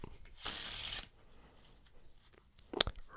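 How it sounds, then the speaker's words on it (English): Playing cards riffled in a close Pharaoh shuffle, a crisp burst of rapid fluttering clicks followed by quieter card handling and a brief sharp snap near the end. "I like to do Pharaoh shuffles as well"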